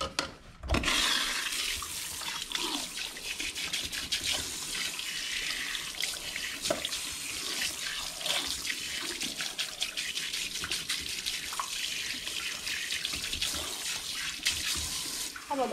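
Water runs steadily from a tap into a barbershop sink, a close, continuous splashing stream that lasts throughout, with brief speech near the start.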